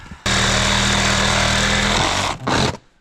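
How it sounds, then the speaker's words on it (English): A loud angle grinder bites into scrap metal from a burned, illegally dumped RV, a harsh steady whine lasting about two seconds, then a short dip and a brief second burst before it spins down, with no talking. "might need to use my grinder."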